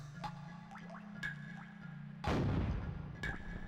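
A cannon in Donkey Kong 64 fires heavy cannonballs, one deep muffled boom landing midway among light game blips and chimes over a steady low hum.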